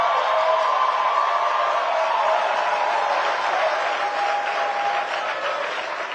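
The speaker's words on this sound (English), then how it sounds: "If you want to stand up and have applause, do that." Sustained applause from a church congregation, a dense, steady wash of many hands clapping that stays loud throughout and eases slightly toward the end, with a few faint voices in the crowd.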